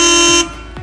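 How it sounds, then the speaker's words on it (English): Horn on a 2019 Sunseeker 66 yacht giving one loud, steady tonal honk lasting under half a second before cutting off, close by, followed by quieter background. "I'll honk the horn."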